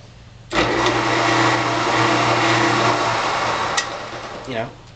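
A homemade vertical lathe (Vertilathe) runs with a steady, loud motor hum and whir for several seconds after switching on, then spins down with a brief rising whine at the end.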